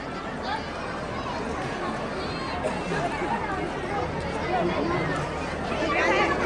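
Dense crowd chatter fills an engagement party, a steady, unbroken babble of many overlapping voices that stays close and fairly loud throughout and swells slightly near the end.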